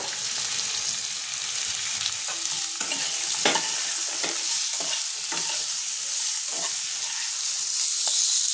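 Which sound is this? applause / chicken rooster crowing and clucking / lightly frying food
lightly frying food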